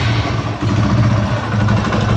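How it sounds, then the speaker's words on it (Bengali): A 2022 TVS Apache RTR 160 ABS motorcycle with about 15,843 km, idling through its silencer with no throttle, a loud, close, steady low rumble with an even pulsing beat. "এটা কিন্তু ফ্রি অ্যাক্সেলেটারের ইঞ্জিনের সাউন্ড, ফ্রি অ্যাক্সেলেটারের স্যালেন্সারের।"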